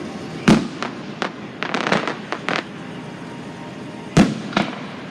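Fireworks going off outdoors in a handful of sharp separate bangs and crackling bursts, two of them loud and close, with quieter pops and rumbling between.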